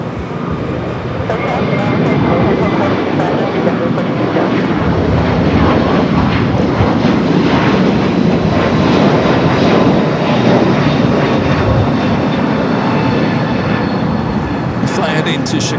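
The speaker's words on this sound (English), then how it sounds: "Fly heading to Chicago here in a 2-year-old A321neo." A United Airlines Airbus A321neo takes off from LAX, its engines building to a loud, steady roar that holds throughout, close and broad with no talk over it.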